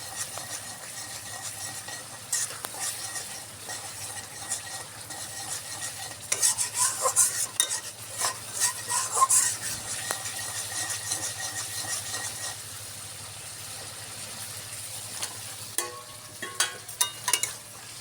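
A spoon stirring and sautéing spice masala in a pan for a spicy pangas fish curry, with scraping strokes over a low sizzle that grow busier and denser partway through, then settle again.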